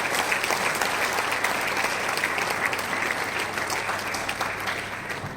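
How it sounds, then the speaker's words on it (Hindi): A book launch audience claps together in a dense, sustained round of applause that fills the room and slowly eases off near the end. "आप लोगों ने तालियां कम बजाई इस बात पर"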